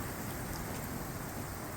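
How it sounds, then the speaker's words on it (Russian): Steady rain mixed with hail and snow, a continuous even hiss and patter with no pauses or distinct impacts, moderately quiet and uninterrupted throughout. "Это просто дождь с градом, со снегом."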